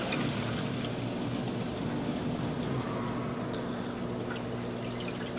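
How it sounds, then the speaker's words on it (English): Aquarium return pump running with a BeanAnimal overflow and sump, a steady loud rush of water with churning, pouring and trickling, plus air sputtering through the return line, continuous and close throughout. "When I turn the pump back on, you'll see air just shooting out."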